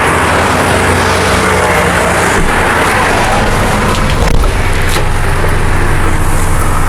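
A Honda Civic Dimension drives along with a loud, steady broadband road and engine roar filling the cabin throughout, no voices heard.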